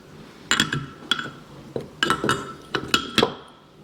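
Metal brake pads for an Audi TT Mk1 caliper being handled and slotted into place, producing a series of close, sharp clinks and taps in quick irregular succession.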